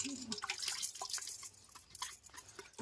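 Papaya and guava being rinsed under water, with dripping and splashing liquid sounds in quick irregular bursts, fairly close and steady throughout.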